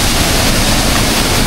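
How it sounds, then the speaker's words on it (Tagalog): A brief burst of heavy, continuous water roar from a river waterfall close by, loud and unbroken. "Ayan, dito yung talon."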